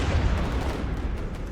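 Grenades blasting along a trench line in a First World War video game, a dense continuous run of heavy low booms rolling together without pause, loud and close.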